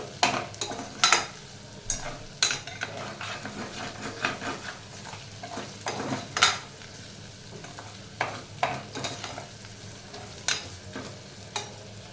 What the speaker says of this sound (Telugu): ఇవన్నీ మసాలాలు కొంచెం ఒక 1 మినిట్ ఫ్రై అయిపోతే సరిపోతుందండి